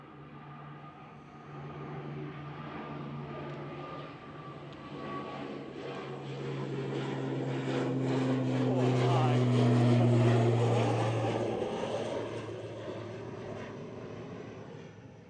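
An eight-year-old ATR 72-600 turboprop on flight 698 passes nearly overhead at Manchester Airport, its steady propeller drone and engine tones swelling to a peak and then easing away, with a person talking over it.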